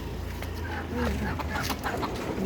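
Clucks from a desi (country) chicken that has just been bought come in short, irregular bursts close by, mixed with voices and household background noise.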